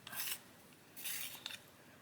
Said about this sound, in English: I'm going to sharpen it.